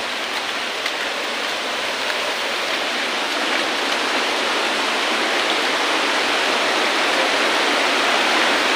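River water rushes steadily in a continuous broadband roar, loud and close, unbroken throughout with no talk.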